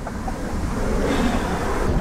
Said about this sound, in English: I've got a gust then.